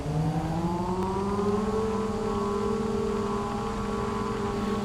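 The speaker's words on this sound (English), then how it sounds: "So that's sound number 1, engine sound number 1." Lizard Maverick X3 side-by-side engine in Farming Simulator 22, base model at 150 horsepower, a steady droning whine rising slowly in pitch as it revs up, then holding level, loud and continuous with no talking.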